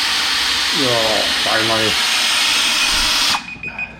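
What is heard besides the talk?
drill mixing tile mortar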